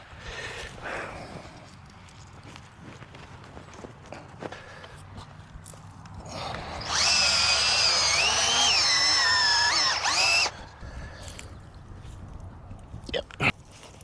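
Power auger drilling holes in garden soil gives a loud, close whine lasting about three and a half seconds. Footsteps and rustling come before and after it.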